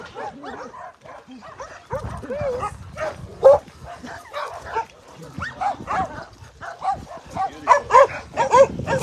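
Three formerly chained dogs at an animal shelter yip, bark and whimper in excited bursts, fairly close, with people talking throughout.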